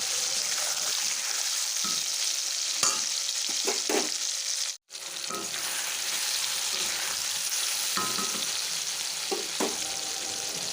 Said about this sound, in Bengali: বেশ ভালো করে আমরা আলুটাকে সঙ্গে নাড়াচাড়া করে নেব